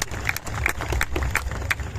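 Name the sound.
audience applause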